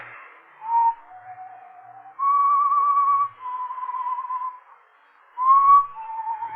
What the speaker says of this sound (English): But I heard that whistling again. That same tune.